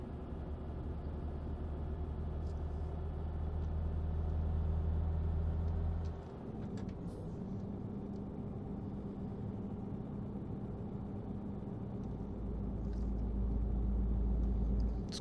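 Lorry engine rumbling steadily in Euro Truck Simulator 2 during a long hill climb, deep and loud, briefly dipping as the gear changes midway before droning on.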